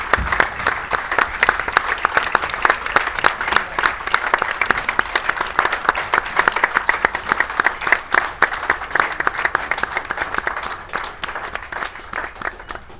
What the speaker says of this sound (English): let's all stand up and give these guys a round of applause